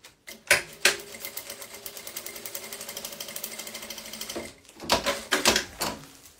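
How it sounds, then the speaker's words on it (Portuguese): Sewing machine stitching along curved fabric pieces for a Christmas decoration craft, running in steady rapid bursts with short pauses between runs, close and fairly loud, no talking. "E vou costurar, ó, nessas curvinhas que eu fiz."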